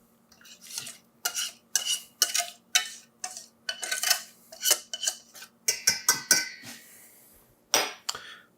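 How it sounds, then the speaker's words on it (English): Boiled macaroni being stirred and folded into a cheese sauce with a spatula, giving repeated wet, squelchy scraping strokes in a steady rhythm, close and moderately loud, with utensil clinks against the pot and no talking. "Now we're just going to combine this with the boiled macaroni."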